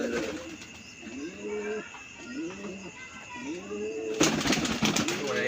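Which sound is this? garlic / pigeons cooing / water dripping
pigeons cooing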